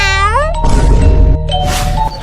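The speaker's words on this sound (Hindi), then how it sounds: "अरे बेटा बिल्ली है, डरो मत" A cat meows loudly and close: a drawn-out rising meow, a scuffling thump, then a second shorter cry.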